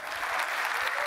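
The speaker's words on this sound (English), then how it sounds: "Clap it up." An audience at a talk breaks into brief, dense applause, a steady wash of clapping hands lasting about a second.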